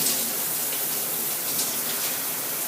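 Water sprays hard from a high-pressure shower head designed for low water pressure, a loud, steady hissing rush that carries on unbroken throughout.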